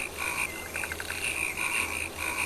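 Frogs in the Sega CD game Night Trap croak steadily through a night-time scene, a chorus of repeated rhythmic calls with a quick rattling run in the middle, over a constant low hum.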